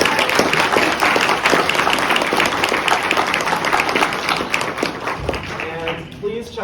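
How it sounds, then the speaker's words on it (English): Convention hall audience applauds the panelists at the close of a science panel, a continuous wash of clapping that tapers off at the end as a voice begins. "Big round of applause for our panelists."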